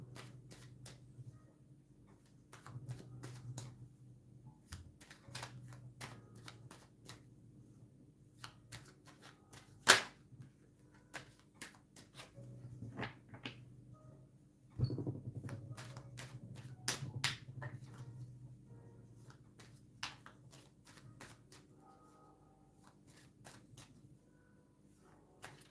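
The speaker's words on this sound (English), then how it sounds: "sometimes it takes a long time for me to shuffle" Tarot cards are shuffled by hand during a tarot reading, with soft intermittent riffles and sharp taps spread across a quiet stretch, faint and close, with no talking.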